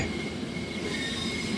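Old Metrolink bi-level passenger train in Train Sim World 5 on the San Bernardino Line, six carriages with two engines at the back, climbing an incline: a steady close rumble of wheels and running gear with faint squeal, no talk.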